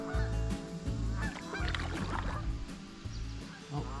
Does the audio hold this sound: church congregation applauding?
no